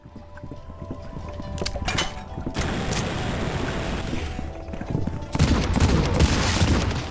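Revolver fire in the video game Cultic: a run of sharp shots followed by dense bursts of gunfire and mechanical clatter, loud and continuous, with the last few seconds getting heavier.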